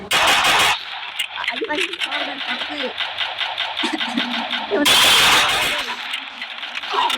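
Rapid automatic gunfire from the mobile battle royale game Free Fire crackles in bursts, loudest at the start and again near the end, with a voice talking over the shooting throughout.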